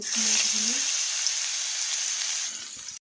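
Onions sizzle and crackle in hot oil in a Bengali home kitchen, a steady broadband frying hiss close by that holds level for a few seconds, with a faint voice briefly audible early on.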